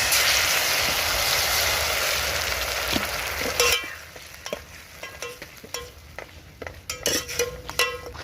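Squeezed tomatoes going into a hot pan in an outdoor village kitchen, a loud burst of sizzling that fades, followed by scattered scrapes and clinks of stirring.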